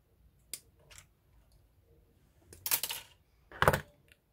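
Plastic bench parts for a Revell 1/35 M34 and Willys Jeep model kit being clipped off the sprue: a few sharp, close snips and clicks, with two louder cuts near the end.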